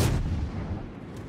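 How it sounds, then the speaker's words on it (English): Heavy warship broadside gunfire in the naval battle game World of Warships: a loud, booming low-pitched blast that rolls off over about a second, with no talk over it. "Never gonna get used to these broadsides."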